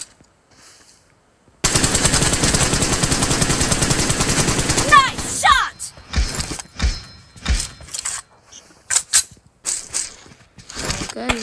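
Rapid automatic gunfire from a video game team deathmatch bursts in loudly and continuously for several seconds, then gives way to scattered short shots and clicks as players talk over it.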